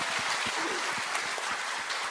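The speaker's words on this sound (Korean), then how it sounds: "박수 한번 보내주세요." Steady audience applause fills a Korean talk show studio, a dense wash of many hands clapping at an even level throughout, with no voices rising above it.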